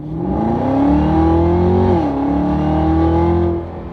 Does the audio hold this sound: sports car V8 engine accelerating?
yes